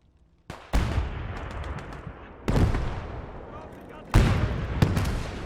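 A Lee gun fires high explosive anti-tank rounds in the WWII Eastern Front game Call to Arms Gate. Three loud, heavy shots land about two seconds apart, and each one is followed by a long rumbling tail.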